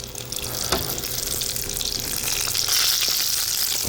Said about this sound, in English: We're going to drop them into the oil here